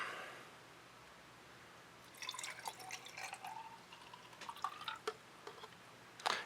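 Water from a pitcher is poured into a small container during a tabletop science demo, heard as soft splashing and trickling drips after a quiet start, with a brief louder splash near the end; no talking.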